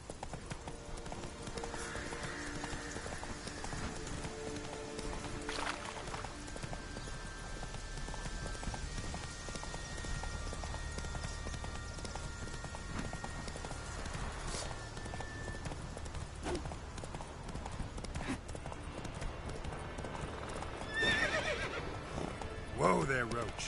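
Roach the horse from The Witcher 3 whinnies and trots with clip-clopping hooves under a rider's talk, with game music and ambience throughout and a louder flurry of hoofbeats near the end.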